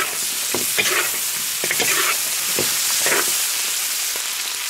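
Pork ribs stir-fried in a wok with ginger, chili and bean paste, a loud continuous sizzle punctuated by several scraping stirs of the spatula at irregular intervals.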